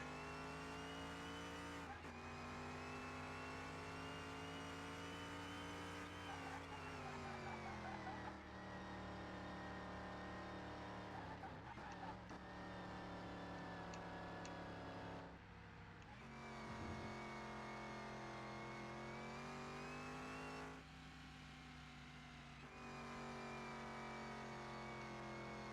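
A racing car engine in Car Mechanic Simulator revving hard through the gears, loud sustained harmonic whine with abrupt pitch drops at each shift across the whole stretch.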